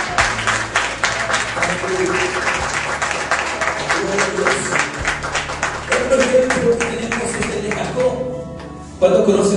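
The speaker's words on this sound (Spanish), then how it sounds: "¿Cuándo le dan un fuerte aplauso al Señor por eso?" A church congregation breaks into sustained, loud applause during a Spanish-language sermon, the dense clapping running steadily throughout with voices mixed in.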